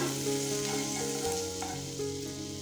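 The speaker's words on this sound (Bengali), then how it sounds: "এখানে আমার রসুন আর কাঁচা লঙ্কা ভাজা হয়ে গেছে" Garlic and green chillies fry in hot oil in a pan, giving a steady, moderately loud sizzle with faint stirring scrapes throughout.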